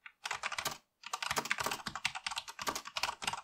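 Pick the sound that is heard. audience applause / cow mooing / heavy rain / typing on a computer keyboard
typing on a computer keyboard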